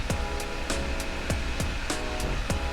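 A Modesa battery-powered nail dryer runs with a steady, close fan whir, broken by faint regular ticks about every half second, with no one talking.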